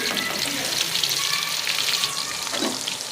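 Onions frying in a kadai where potatoes were just fried, giving a steady close sizzle and crackle of hot oil that runs throughout with no talk.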